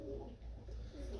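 Pigeons coo softly in a low, repeating rumble, close and steady throughout the short moment.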